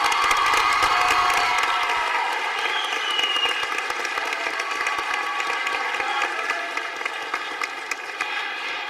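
A pageant audience at Mr. Parkland 2008 breaks into loud sustained applause and cheering for the contestants, a dense wash of clapping and shouts that gradually eases over several seconds.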